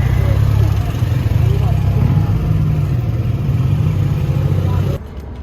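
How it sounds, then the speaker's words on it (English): Road traffic rumbles around a scooter on the Amalfi Coast, with a steady, loud engine drone and wind noise close by that cuts off abruptly near the end. "And we've hit traffic again."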